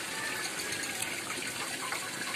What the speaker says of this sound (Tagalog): Ayan po yung tubig na dumadaloy po.